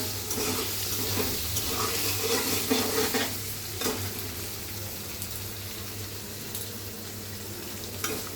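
Chopped carrots sizzle and fry in a pan while being stirred for a Chinese vegetable dish, a steady close frying hiss with occasional scraping and clinks and no talk.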